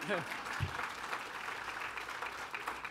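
An awards-gala audience claps steadily at a moderate level through the clip, with a brief voice near the start.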